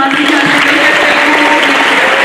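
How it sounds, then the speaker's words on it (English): An audience at a Class of 2021 class night applauds steadily, a dense, even wash of many hands clapping throughout, with a faint tonal hum beneath. "So let's give a round of applause"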